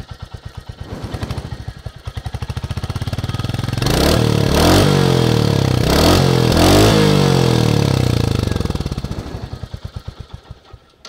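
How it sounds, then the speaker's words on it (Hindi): A 2022 Royal Enfield Hunter 350 motorcycle exhaust thumps at a steady idle, then is blipped several times into louder rising revs before settling back to its pulsing single-cylinder beat, close and alone. "तो ये एग्जॉस्ट है बाइक का"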